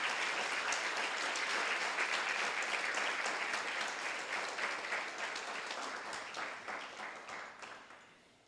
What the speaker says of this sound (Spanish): Vamos a darle otro aplauso a nuestro Dios